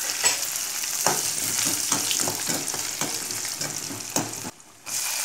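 Broken dried chillies and fennel frying in hot oil for a Chettinad-style goat blood fry, a close, steady sizzle broken by repeated scraping stirs, cutting out briefly near the end.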